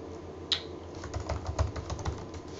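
Clicky keystrokes on a computer keyboard as a command is typed, a steady run of light taps close by with one sharper key hit near the start, no voices.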